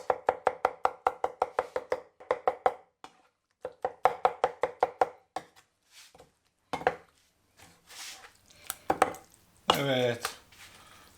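Roasted eggplant salad being chopped and mixed in a pan, a run of quick, even knife chops on the pan repeating in bursts, then a few scattered knocks and scraping stirs, close and fairly quiet.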